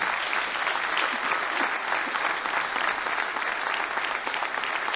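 Dense, steady applause from a spring concert audience at a Lolland music school, many hands clapping at once in an even wash of sound with no voices standing out.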